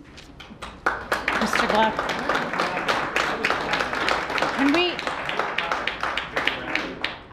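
Audience applause at the Maryland 6th Congressional District debate between David Trone and Amie Hoeber, a sustained burst of clapping that runs several seconds while a moderator speaks over it.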